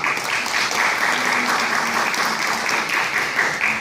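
An audience applauds a speaker at an environmental day talk, a steady burst of clapping from many hands lasting a few seconds.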